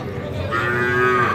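A crossbred bull calf gives a single drawn-out moo, close and clear over low farmyard background noise.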